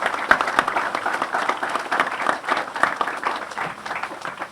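An outdoor crowd at a park opening ceremony claps in a steady, close burst of applause that fills the whole stretch without any talk.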